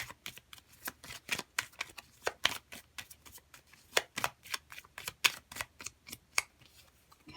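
Tarot cards being shuffled and drawn by hand, a quiet run of crisp, irregular snaps and riffles with short gaps between them, close and alone.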